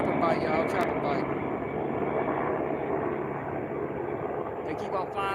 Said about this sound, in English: They keep on flying over like that